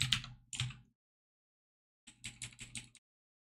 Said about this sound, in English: you can't see what I'm typing